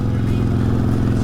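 A Harley-Davidson motorcycle engine idles with a steady, deep low rumble, close and continuous throughout, with no talk over it.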